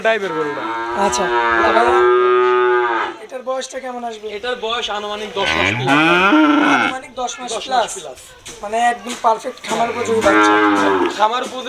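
Holstein Friesian cattle at a farm, several loud, drawn-out moos in succession, close to the microphone, with people talking in between.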